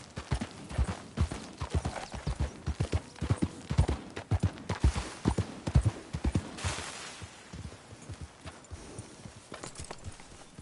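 Horse hooves pound at a gallop in Red Dead Redemption 2, a loud, rapid clip-clop rhythm that runs steadily throughout, with a brief faint whinny partway through.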